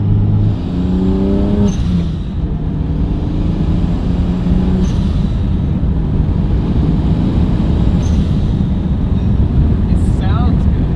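BMW 335i fitted with a big single turbo, driving with steady engine and road noise throughout, a rising rev sweep early on, while people talk over it inside the car.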